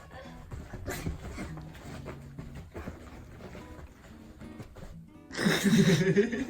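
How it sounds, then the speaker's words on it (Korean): Playful dogs let out a loud, close burst of barking and yelping near the end, after a stretch of quieter rustling and movement. "놀때 짖는 거 배워가지고"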